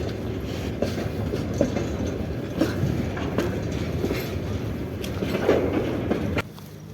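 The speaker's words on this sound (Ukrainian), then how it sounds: "Поїзд їде, люди торгують." A train rolls past a busy flea market outside a big store, a steady loud rumble with rhythmic wheel clatter that carries on throughout and cuts off sharply near the end.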